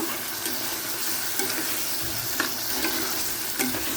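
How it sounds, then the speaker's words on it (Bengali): Soaked raw chickpeas fry with spices in a pan, a steady close sizzle with scraping stirs and occasional clatters throughout, no voices. "ভেজানো কাঁচা ছোলা দিয়ে মশলার সাথে এগুলোকে বেশ করে কষিয়ে নেব"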